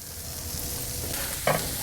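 Carrots and celery charring in a Dutch oven on a Kamado Joe grill give a brief, steady sizzle with a short scraping stir near the end, close and moderate in level.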